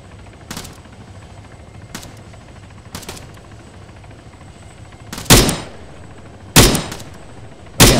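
Gunfire in the ArmA 3 video game, a handful of sharp, spaced shots over a low steady engine drone, growing louder toward the end with the heaviest bursts in the last few seconds.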